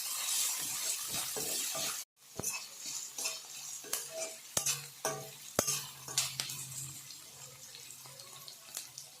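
Thinly sliced onion goes into a pan of frying cashews, cumin and poppy seeds for a prawn curry, and is stirred with a spoon. Scattered clinks and scrapes ride over a soft sizzle after an initial burst of broadband noise.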